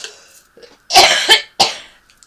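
A few sharp, raspy coughs in a row from a person with a cold, close and loud, with brief quiet gaps between them.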